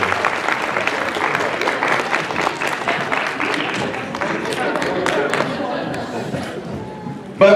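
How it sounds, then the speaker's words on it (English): Audience applause fills the room at a fan convention opening ceremony, a steady dense clapping that runs nearly throughout before thinning out near the end, with a host's voice faintly mixed in. "Let's give them another big round of applause."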